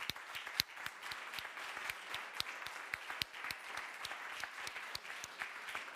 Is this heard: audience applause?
yes